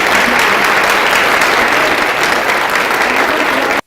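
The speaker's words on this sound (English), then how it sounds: "A big round of applause" Loud, sustained applause from a conference audience at a policy debate on end-of-life care, a dense, steady wash of many hands clapping for nearly four seconds before stopping abruptly.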